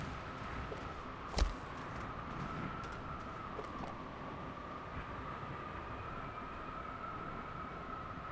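A train rolls along a rail line in the video game Spacebase, a steady mechanical rumble with a sustained mid-pitched whine running throughout and one sharp clack early on, moderately loud and without speech.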